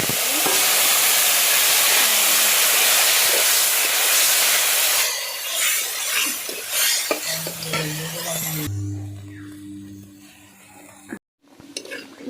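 A pot of elephant apple (ou tenga) with small fish boiling steadily, a loud bubbling hiss for the first few seconds, then softer clinks of a pot or utensil and a low hum before the sound cuts off.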